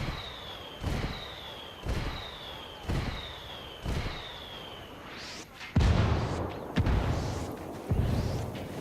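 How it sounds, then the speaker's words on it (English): Artillery shells from an indirect fire strike in Ghost Recon Wildlands land in a steady series, each with a falling whistle and a booming blast about once a second, the last impacts heavier and overlapping. "I'm calling for indirect fire."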